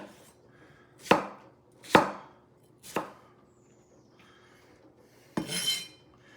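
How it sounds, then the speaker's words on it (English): Knife chopping salad ingredients for a chicken Caesar salad on a cutting board: three sharp, close chops spaced about a second apart, a pause, then a longer scraping chop. "So just cut these in half, and then just kind of chop these up"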